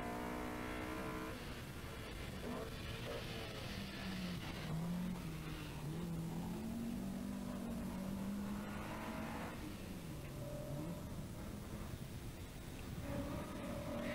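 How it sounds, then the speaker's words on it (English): A big Opel rally car driving hard up the top end of Moll's Gap mountain road during the 1982 Rally of the Lakes in Killarney, its engine note rising and falling steadily throughout as it works through the gears at speed. "Theo Bengry was now fourth the big Opel looking very good at this top end of Moll's Gap"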